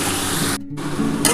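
Taro stolons fry with onion and black cumin in hot oil, a loud, dense sizzle that drops out briefly midway and then resumes, with no talking.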